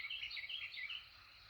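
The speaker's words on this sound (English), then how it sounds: "I want you to listen to all of the birds." Birds call and chirp in a garden at sunrise, around 6:30 in the morning, with crows among them; a steady run of bright, overlapping chirps fills the background at moderate, fairly faint level, with no talking.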